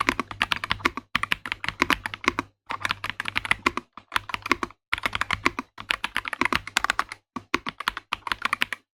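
Typing on an Ajazz AK650 mechanical keyboard fitted with creamy Flying Fish switches: close, loud bursts of rapid key clatter in short runs separated by brief pauses.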